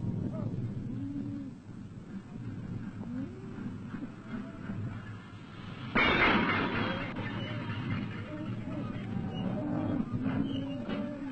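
Cattle lowing on the plains of northern Nigeria as they gather at a railhead for shipment south, calls fairly close and steady, with a louder burst of rustling and movement partway through.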